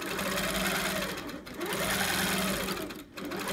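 A sit-down sewing machine stitches a free-motion quilting refrigerator coil design, its needle running in a fast, steady mechanical chatter with a rhythmic hum that briefly slows and dips twice before resuming, close and alone.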